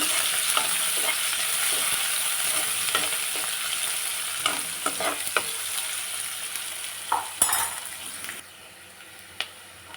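Onions fry in oil for upma with a steady bright sizzle, broken by scraping stirs and clatters of a spoon against the pan, the hiss dropping off near the end.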